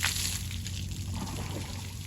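Water pours and splashes during the bathing of an elephant, a continuous soft rushing flow heard fairly close and steady for the whole short moment, with no voices.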